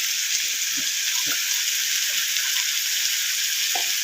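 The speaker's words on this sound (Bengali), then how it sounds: "আমি রসুন, কাঁচা লঙ্কা, ম্যাগি মশলা মিশিয়ে মধ্যে দিয়ে দিলাম।" Garlic, green chili and Maggi masala fry in hot oil for a besan potato curry, giving a steady, close, even sizzle with faint scrapes of stirring.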